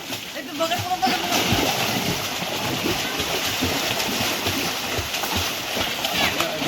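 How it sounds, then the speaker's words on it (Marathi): A child splashing and slapping water while swimming in a village well in the Konkan, with steady close splashes and sloshing throughout and excited voices talking over it. "हा आर्यन बघा पाणी कसं मारते हा बघा"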